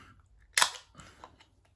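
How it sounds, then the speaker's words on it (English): A can of kettle sour beer is cracked open: one sharp pop and hiss, followed by a few faint clicks and rustles, close and quiet. "All right, let's crack it open"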